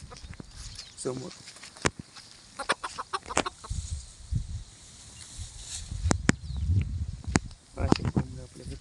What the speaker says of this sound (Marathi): अशा कोंबड्या आपल्याकडे आहेत.